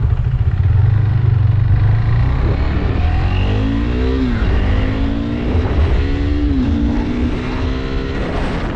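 KTM RC 390 motorcycle engine revving loudly and close, a continuous throaty roar with repeated rising throttle blips over a steady low rumble.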